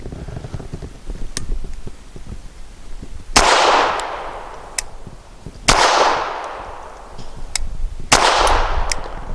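Three loud pistol shots from a Bersa Thunder 380 with a threaded barrel, firing PPU hollow-point rounds, spaced about two seconds apart. Each sharp crack has a long decaying echo, with faint clicks and handling noise between the shots.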